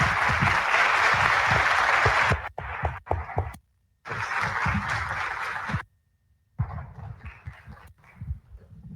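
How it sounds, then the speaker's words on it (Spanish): Audience applause at a university panel event, a broad crackling wash of clapping that breaks off briefly several times and resumes, then fades into a thinner, scattered clatter near the end. "Me parece que merecen un aplauso aún más fuerte."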